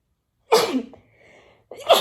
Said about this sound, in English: I'm gonna need to sneeze.